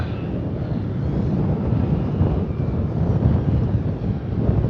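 Strong wind buffeting the microphone at an RC flying field, a continuous loud low rumble and roar with no gaps, alone without talk.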